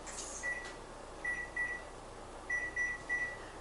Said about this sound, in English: We've got our timer set.